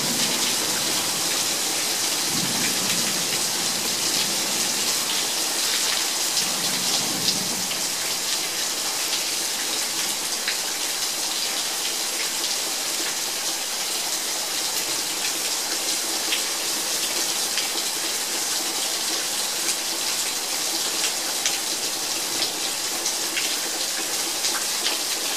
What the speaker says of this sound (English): It's raining in Fort Worth.